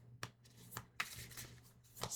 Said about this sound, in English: I'm going to split these cards up as I do ones that are difficult to shuffle